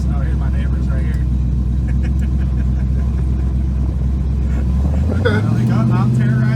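V8 exhaust from an LS-swapped 1977 Chevy Nova running through cheap mufflers, a steady low rumble throughout that drops in pitch near the end, with a person talking over it.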